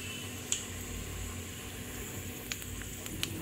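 Nigella seeds, with a dried chili and bay leaf, sizzling in hot mustard oil in a pan: a steady low frying hiss with a few sharp pops and crackles scattered through it, close and unaccompanied by talk.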